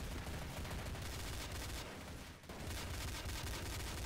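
Rapid machine-gun bursts in Counter-Strike: Source rattle almost continuously, with a brief gap in the middle before the dense gunfire resumes, loud and close.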